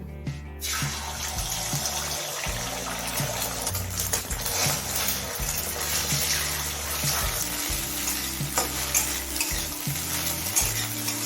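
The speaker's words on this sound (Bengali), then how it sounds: "তেলটা খুব ভালোভাবে গরম হয়ে গেছে এবারে ফেটানো ডিম দুটো ভেজে নেব" Two beaten eggs fry in hot oil in a pan, a loud, continuous close sizzle that begins abruptly and carries on with light stirring scrapes.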